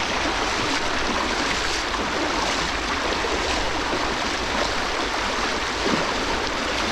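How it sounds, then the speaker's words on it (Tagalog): A shallow river current rushes steadily with continuous broadband water noise, close and fairly loud, no voices over it. "Ganda po ng agos oh."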